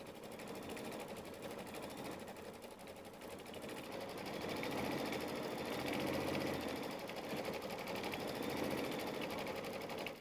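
Sewing machine running steadily as it stitches out a small butterfly quilt block for a mini quilt, a continuous close mechanical whir with a fast stitching rhythm that holds for the whole stretch, alone with no talk.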